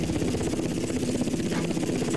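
Helicopter in the video game GTA Vice City Stories, a combat chopper's steady rotor drone and engine whine running continuously throughout, loud and close.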